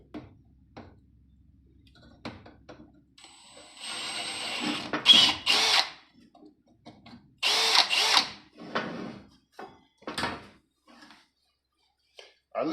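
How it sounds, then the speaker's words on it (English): Short bursts of a power drill whirring at close range during GM Gen V engine water pump preparation, two main runs separated by quiet gaps, with scattered clicks and handling noises around them. "Make sure you drill it straight."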